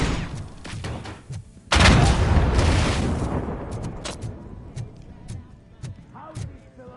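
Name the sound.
gunfire in the Robocop video game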